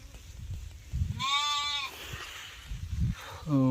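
Sheep bleat in the rainy season, one long wavering bleat followed by another starting as it ends, over a low rumbling background with a few soft thuds.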